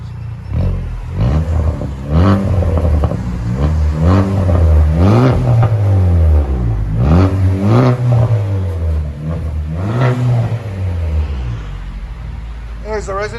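A 2019 Chevy Malibu LT turbo with straight-pipe exhaust and the resonator removed, revving in a series of loud, close blips that rise and fall repeatedly, with a voice speaking over the engine.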